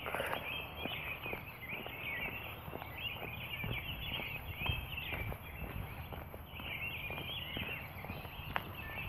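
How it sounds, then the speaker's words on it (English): Birds call and chatter outdoors during a morning walk, a faint but continuous twittering backdrop over the walker's soft footsteps. "Those birds are happy they are."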